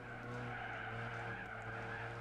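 Pontiac Sunfire tires skid and squeal through a race in Gran Turismo 4 on the PS2: one long, steady screech over a constant engine drone, close and loud, with no talk.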